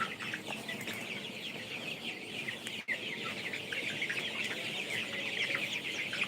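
Chickens of a coloured broiler breed raised for meat clucking together on a poultry farm, a dense continuous chorus of overlapping clucks and calls, moderately close, with no talking.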